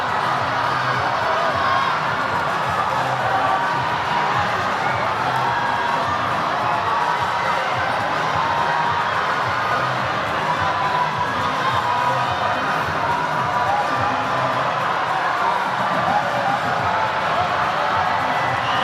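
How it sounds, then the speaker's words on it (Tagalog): Steady roar of a large basketball arena crowd cheering and shouting at a PBA Commissioner's Cup game between NLEX and TNT, loud and continuous throughout, with a commentator's voice woven in beneath the din. "This crowd has woken up now"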